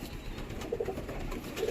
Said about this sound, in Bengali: এটা মেল পায়রা।